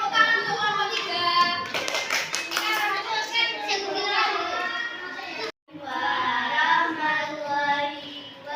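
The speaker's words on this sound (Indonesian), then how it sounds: "Oke, tepuk tangan untuk kelompok 3." Elementary classroom students in Indonesia clapping for a presenting group, rhythmic hand claps mixed with children's chatter and voices, with a brief dropout midway before the noisy clapping and talking resume.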